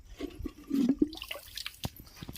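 Water gurgles and drains away from a cattle trough in short bubbling bursts, with splashy sloshing and a few knocks nearby.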